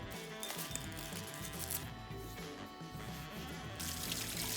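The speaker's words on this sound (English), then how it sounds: "Give the corn a good rinse before preparing a pot with salty boiling water." Steady running water from a tap splashes continuously over corn held beneath it, a close, even rush with no talking.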